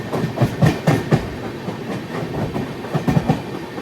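Rhythmic clickety-clack of an express train's wheels over rail joints, heard from on board a Coimbatore–Mangaluru express nearing Thalassery, in repeated clusters of beats over a constant rumbling roar.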